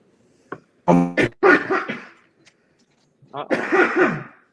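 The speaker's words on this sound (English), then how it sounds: "coughing live on air" A burst of harsh coughing close up from a cat, then a short pause and another rough cough-like outburst.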